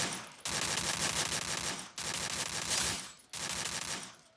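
Sustained bursts of automatic gunfire in a Free Fire firefight, three loud dense fusillades broken by brief pauses, no talk.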